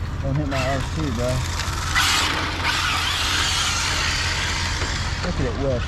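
Arrma Infraction V2 RC car whipping around, a steady mechanical whir and grinding rush swelling in the middle, with someone talking at the start and end.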